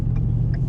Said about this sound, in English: The traffic's getting crazy.